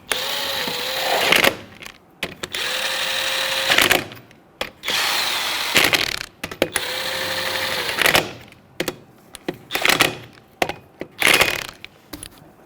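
A power tool with a 19 mm socket snugs wheel lug nuts in bursts. There are several whirring runs of one to two seconds, each ending in a rattling impact as the nut bottoms out, with short pauses between them, close and loud.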